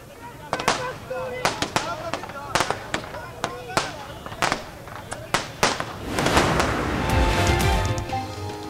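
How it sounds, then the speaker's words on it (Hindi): Fireworks and firecrackers at a party celebration outside the Punjab Assembly, a string of sharp, irregular bangs and cracks near and far, then a denser crackling burst at the end, with voices underneath. "आतिशबाजी का भी शानदार मुजाहरा"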